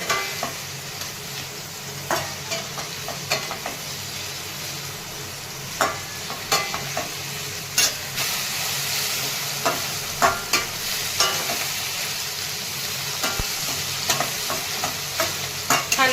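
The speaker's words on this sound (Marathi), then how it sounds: "कांदा आणि टोमॅटो परतलेला आहे" Steady sizzling of onion and tomato sautéing in a pan, with intermittent clinks and scrapes of a spoon stirring, close up and with no voices.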